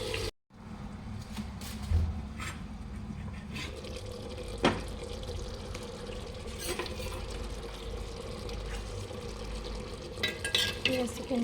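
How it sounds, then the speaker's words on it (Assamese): Marinated chicken fries in oil in a pot for matka chicken and is stirred, giving a continuous low sizzle broken by scraping and occasional clinks of the utensil against the pot. "এতিয়া মই অকমান লৰাই দিম লৰাই কিছু সময় ইয়াতে মই ভাজি থাকিম"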